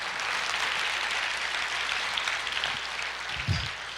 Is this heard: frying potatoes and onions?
no